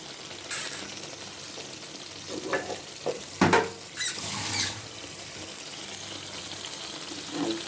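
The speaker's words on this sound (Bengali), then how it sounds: "পানি দিয়ে দিচ্ছি" Water is poured into a hot pan of mustard hilsa curry, a short splashing rush with sizzling that rises and falls over a few seconds amid faint stirring clatter, with no talking.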